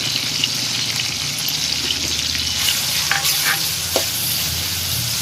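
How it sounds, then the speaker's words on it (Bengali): Chopped onions fry in a pan under constant stirring, a dense continuous sizzle with soft scraping and a few utensil taps, near and steady, with nobody talking. "পরিমাণ মতো পেঁয়াজ কুচিগুলো দিয়ে নাড়াচাড়া করি"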